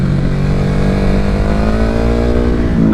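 2021 Ducati 950 Hypermotard, stock, pulls away at low speed, its engine note climbing steadily in a loud, close, continuous rising whine.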